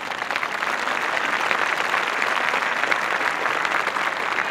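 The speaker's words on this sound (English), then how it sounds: "And that, ladies and gentlemen, deserves a round of applause." An audience at an award ceremony applauds steadily and loudly for several seconds, a dense, even wash of clapping with no talking over it.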